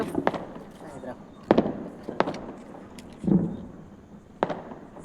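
Firecrackers set off during Diwali celebrations, five or six sharp nearby bangs spaced irregularly over a few seconds, with people talking between the bursts.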